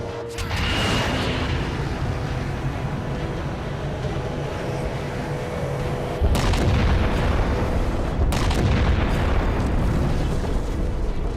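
Heavy artillery booms roll out in a Halo video game battle, a sustained rumbling barrage that grows louder midway with further blasts and a constant low roar beneath.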